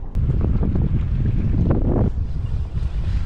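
Strong wind blasts against the microphone at a beach by the sea, a loud continuous low roar and buffeting with no break.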